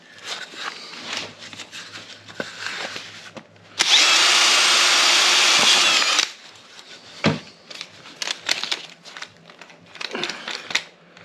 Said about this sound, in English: Use the sharpest drill bit in history.